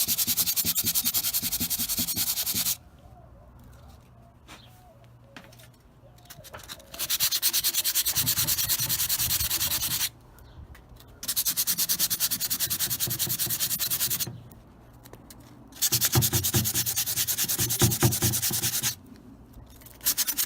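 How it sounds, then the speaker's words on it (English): Light sanding of wood putty on a piece of furniture, steady close rubbing strokes in long bursts separated by brief pauses. "It's wood putty, so literally a light sand, done"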